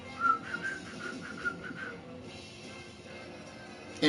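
A person whistles a short melodic tune as a whistle test during an online list-based game show, a string of brief bright notes in the first two seconds followed by quieter room sound.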